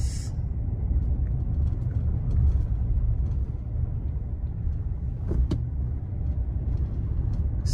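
A car driving through a residential neighborhood in autumn in Michigan, with a steady low road rumble and engine hum heard from inside the vehicle and a couple of faint clicks.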